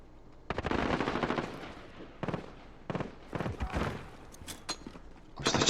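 Bursts of Kilo 141 assault-rifle fire in Call of Duty: Modern Warfare, sharp rapid volleys repeating in short strings with brief pauses, loud and close, with no talking.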